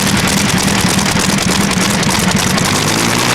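Twin World War II Griffin aero engines, taken from a Shackleton bomber, idle on a pulling tractor at the 1996 European Tractor Pulling event in Rotterdam's Ahoy arena, a loud, steady, throbbing drone that holds without pause.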